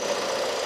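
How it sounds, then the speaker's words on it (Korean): A 2014 LPG-fuelled mid-size sedan engine runs at a steady idle, a constant close-up whirring hum with no change in pitch or level. "엔진 소리 한번 들려드릴게요 엔진 소리도 보세요"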